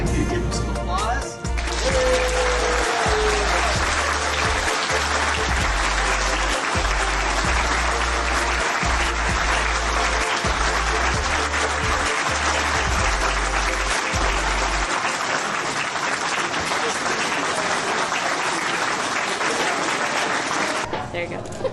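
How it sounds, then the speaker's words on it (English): Sustained applause from the audience at a Brazilian Jiu-Jitsu affiliate training event, a dense, loud wash of clapping lasting about twenty seconds, with a rhythmic low thumping beat underneath for most of it. "I'd like you to give him some applause."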